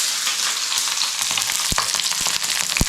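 Garlic and ginger sizzle in hot oil on a pan, a dense, bright crackling hiss punctuated by a few sharp pops and utensil clicks, close and continuous.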